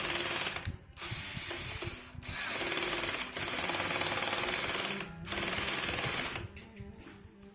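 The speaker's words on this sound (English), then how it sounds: "I need to use the screwdriver." Ratcheting screwdriver clicks in quick bursts while assembling an IKEA KRYDDPEPPAR furniture piece, close and fairly loud, with brief pauses between runs of tightening and no talk.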